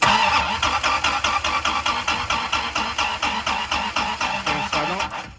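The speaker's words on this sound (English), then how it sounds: "So let's go ahead and try to crank the engine over." A Dodge Viper supercar with a no-start fault cranks over steadily, the starter producing a rapid, even chugging rhythm at close range for several seconds before cutting off; no engine catch is heard.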